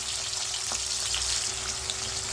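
Garlic fries in a pan of oil for a vendakkai kara kuzhambu, giving a dense, continuous hiss close by with faint crackles and no talking.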